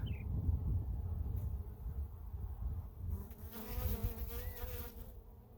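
Steady droning buzz of many honeybees close by at an open hive, a dense continuous hum with brief higher whines passing through.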